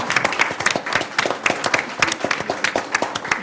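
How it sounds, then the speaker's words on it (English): Applause at a county board of supervisors meeting in Roanoke County, honoring finance staff who stand as the room claps. Dense, uneven clapping from a moderate crowd goes on steadily with no voices over it. "Please stand up so we can give you a round of applause."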